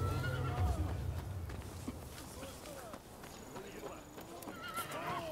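A horse whinnies loudly up close, then hooves clop steadily along, with another neigh near the end, all over a busy background in the video game Rise of the Ronin on PS5.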